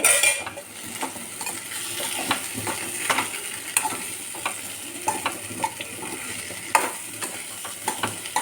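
Food frying and being stirred in a pan with chili and turmeric powder, a steady sizzle under repeated scraping and stirring strokes, close and fairly loud with no talking.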